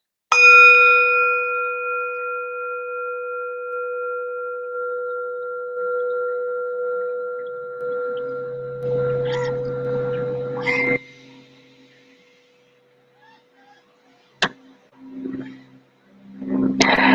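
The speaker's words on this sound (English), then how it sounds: "So all your focus is this bell to finish" A single meditation bell struck once, its clear sustained tone ringing out and slowly fading, followed by quiet and a few faint knocks and rustles.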